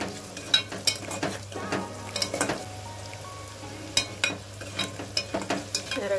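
Onions, curry leaves and green chilies fry in a pan for a fish curry, giving a steady low sizzle broken by repeated sharp scraping and clinking as a spoon stirs against the pan, with no talking.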